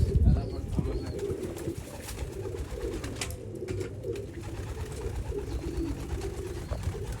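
Pigeons of a rare Kuwaiti teddy breed kept on a rooftop coo in low, continuous murmuring over steady outdoor background noise, with occasional wing flutters.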